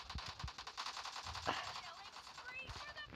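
Video game machine gun fire crackles in rapid bursts with quick repeated shots, fairly quiet and mixed with game sounds and a voice talking.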